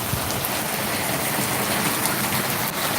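Heavy rain pours down steadily in a dense, unbroken hiss with no gaps, close and loud throughout.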